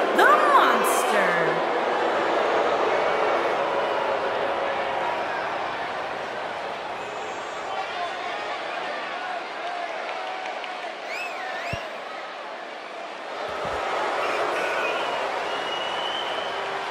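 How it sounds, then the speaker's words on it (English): A video game arena crowd in WWE 2K19 cheers and applauds steadily, a dense roar of claps and shouts with a few whistles, voices talking over it. "it sounds to me like the crowd is more than ready for this one"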